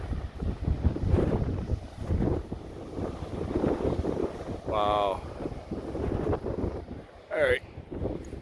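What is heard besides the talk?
wind on a coastal clifftop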